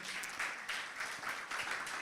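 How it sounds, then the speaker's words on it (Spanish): Applause from a church audience welcoming visitors, a steady soft patter of clapping lasting throughout at moderate distance, fairly faint. "Un aplauso para ellos."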